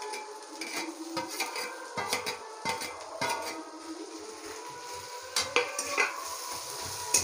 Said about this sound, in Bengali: তো আমি আদা আর রসুন বাটাটা দিয়ে দিচ্ছি।